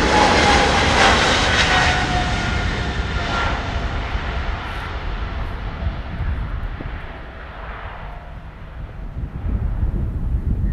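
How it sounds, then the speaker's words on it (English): A KLM Boeing 777-300 jet departs Schiphol, its loud engine roar sustained and slowly fading as it climbs away, with wind rushing across the microphone and no talk. "It's KLM's big Boeing, it's 777-300, and that's the Amsterdam to Delhi flight."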